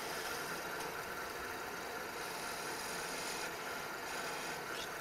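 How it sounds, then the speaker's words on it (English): Spindle roughing gouge cutting a spinning wood blank on a lathe, a continuous rough scraping, rasping roar that stays steady and close throughout, with no talk. "my spindle roughing gouge can get a lot of the wood out of the way"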